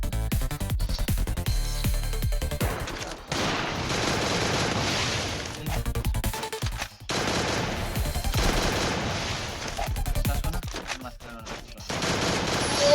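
Rapid automatic gunfire bursts from a shooter video game custom match, loud and dense, with dense volleys broken by brief gaps around the third and seventh seconds.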